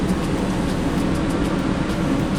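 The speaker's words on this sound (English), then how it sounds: "And then there are 5 new circulation fans." New circulation fans on a Gemini 3000 catamaran give a steady, close broadband whir with a low hum and no speech.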